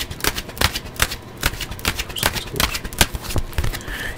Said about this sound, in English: I'm gonna put these cards out for Capricorn